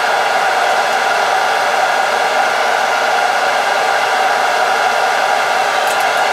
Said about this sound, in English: It's pretty crappy blower, so it doesn't work too fast.